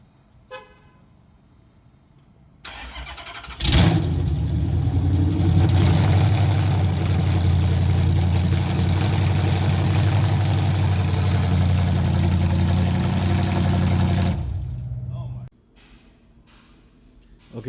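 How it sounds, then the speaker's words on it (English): A 2014 Dodge Charger engine with long-tube headers and open headers cranks and roars to life, then idles loudly and raw for about ten seconds before shutting off. "I'm gonna run it open header so you guys get an idea of how loud it is"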